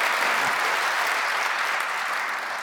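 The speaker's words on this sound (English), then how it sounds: "Now, yes, round of applause," Continuous, even applause from a large audience at a live global premiere event for the all-electric Jaguar I-PACE, sustained and fairly loud without pause.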